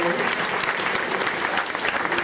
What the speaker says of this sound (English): And a great big round of applause.